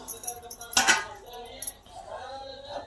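Rava dhokla lifted out of a steamer onto a plate, giving a few light metallic clinks and scrapes of utensils, one brief louder clatter, with a voice speaking nearby.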